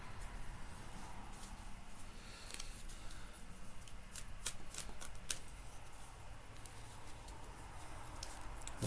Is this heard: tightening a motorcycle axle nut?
no